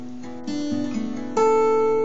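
Acoustic guitar fingerpicking a pattern, a few plucked notes stepping through strings before a brighter chord rings out, close and quiet, alone.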